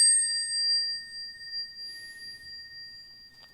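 A Portland Design Works King of Ding II bicycle bell gives a bright, clear ding that rings out with a long, pure sustained tone fading slowly, close and alone.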